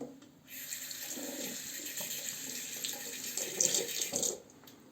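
Water from a tap runs steadily as a black safety razor is rinsed under it, the hiss swelling and splashing harder near the end before the flow stops abruptly.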